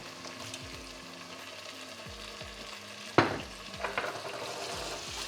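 Red wine stirred into a sizzling vegetarian lasagne sauce base in a pan: a steady close fry hiss with light scraping stirs, then a sharp loud burst of hissing about midway as the wine hits the hot pan, settling back to sizzle.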